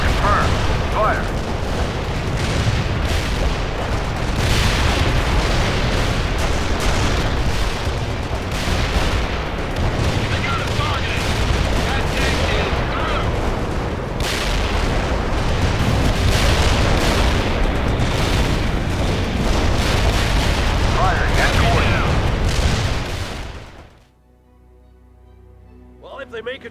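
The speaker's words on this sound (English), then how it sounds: "Give us fire support now!" Artillery fire support in World in Conflict, a long stretch of repeated booming explosions and gunfire layered thickly with radio-style voices, all cutting out abruptly near the end into near silence.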